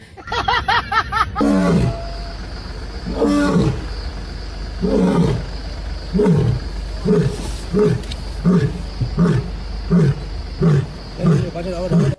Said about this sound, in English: The king of the jungle delivers a bone-chilling performance, roaring directly into the lens of a nearby safari group.